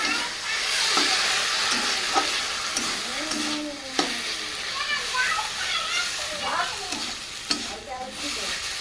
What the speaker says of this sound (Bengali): এবার আমি কাসুন্দিটা দিয়ে নাড়বো।